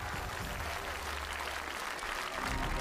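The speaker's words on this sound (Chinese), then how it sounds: "咱们把掌声献给现场14位坐镇的观察员大小朋友" A studio audience of adults and children applauds on a television variety show. The dense, even clapping continues for about three seconds at a fairly faint level.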